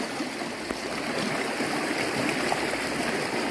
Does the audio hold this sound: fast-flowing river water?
yes